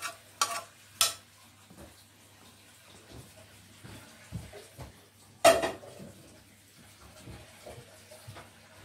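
Food with bacon being stirred and mixed through in a pan, with scattered scraping and clinking knocks of a utensil against the pan, several sharper clatters, over a faint background hum.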